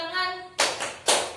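After a short spoken call, children in a classroom play the 369 clapping game, producing two crisp, near clap bursts about half a second apart.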